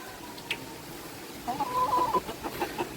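Rhode Island Red chickens feeding in a backyard make soft, scattered clucks and short calls, faint at first and then a busier cluster of quiet bird sounds near the end, with no speech.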